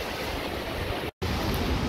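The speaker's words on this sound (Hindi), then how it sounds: "वहाँ पे देख सकते हैं पानी का कितनी तेज़ बहाव हो रहा है" Fast-flowing river water rushes over a dam in Haridwar, a loud, steady, broadband roar with a brief dropout midway.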